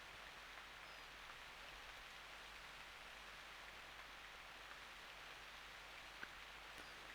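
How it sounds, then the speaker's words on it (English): Rain falling in Final Fantasy Tactics Advance on the Game Boy Advance, a steady, soft hiss of downpour that stays even throughout with only a faint tick or two on top. "The rain's getting worse."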